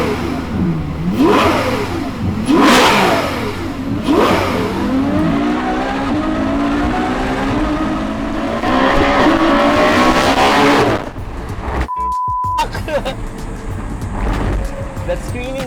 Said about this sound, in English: So I'll do some revs. It's all open valve.